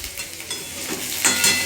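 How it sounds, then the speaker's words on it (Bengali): Potatoes fry in a pan for a Bengali jackfruit curry, giving a steady, close sizzle with a slight swell near the end and no voices. "এটা এঁচড়ের জন্য আলুটাকে ভাজছি"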